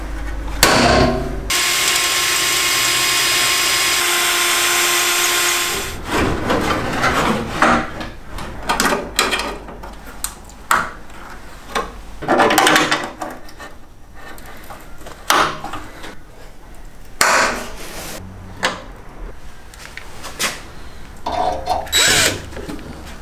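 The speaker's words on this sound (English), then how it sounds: "that's my pilot holes drilled" A power drill whirs steadily for several seconds drilling pilot holes in a BMW E30 chassis leg, then gives way to a series of short bursts of drilling and clattering tool noises nearby.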